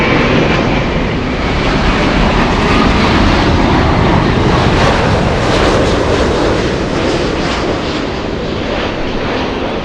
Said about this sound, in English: The one you're hearing but not seeing, we have Norse 711 flying in from Gatwick